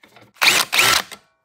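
Drill bit spinning against a metal O2 sensor non-fouler to deburr it, two loud grinding bursts of about a quarter second each, the second followed by a short trailing scrape, close up with no talking.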